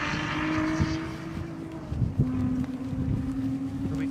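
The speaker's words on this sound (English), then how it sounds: "You'll be able to see some of the cars racing around there now." Classic Lotus cars lapping a race track, with engines droning at a distance and one car's note swelling and shifting as it passes, under a steady wash of wind noise.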